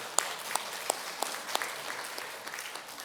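Scattered, fairly sparse clapping from a church congregation after a hymn during a Sunday service, heard as distinct hand claps at a moderate distance with no voices.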